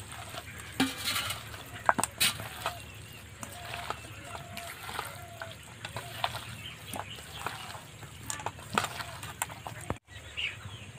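Raw chicken being mixed by hand with salt and spices, giving soft squelching and light clinks of a bowl in irregular strokes, close and quiet.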